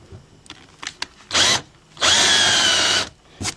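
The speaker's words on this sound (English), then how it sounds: "that's why you want to do it this way with this countersink tool" A countersink tool is run by a power drill into holes in the fiberglass of a used sailboat, giving two loud close whirring bursts, one short and one about a second long, with small clicks and taps between them.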